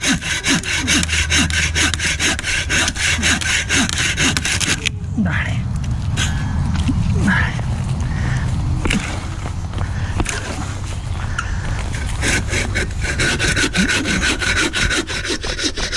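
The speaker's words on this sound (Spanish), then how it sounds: "la sierra es 20 veces más efectiva que el hacha para cortar troncos" Hand saw cutting through logs on a trail, a steady back-and-forth rasp of teeth in wood that pauses midway amid rustling and footsteps, then resumes its rhythmic strokes, with a voice briefly heard.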